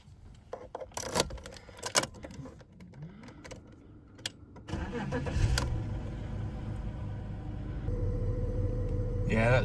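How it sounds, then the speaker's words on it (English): BMW E39 5 Series with a gearbox fault being started: clicks and keys jangling, then the engine cranks and catches, settling into a steady idle, with brief talk nearby. "what's happening when we start her up."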